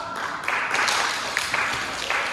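Year one children clap in a school gymnastics lesson, a brief burst of scattered hand claps from a small group indoors.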